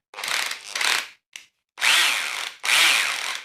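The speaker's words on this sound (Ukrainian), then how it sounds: "Ну, на другій швидкості вже можна щось свердити." An INTERTOOL WT-0104 corded electric drill-driver, a 420 W mains-powered model, whirs loudly at second speed in several bursts. Three long runs are broken by a very brief blip, with pitch dropping as the motor slows between runs, and no talking.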